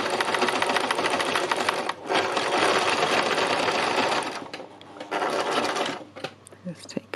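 A sewing machine stitches fabric in fast, loud runs of needle chatter, stopping briefly around two seconds and again near the end, with a few short stitches afterward.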